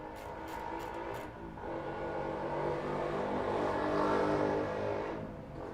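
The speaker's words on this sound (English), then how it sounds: "That motorbike is coming back and forth all day today." A motorbike passing outside in the background, a low engine drone that swells and fades over several seconds, moderately distant and steady, with no voices.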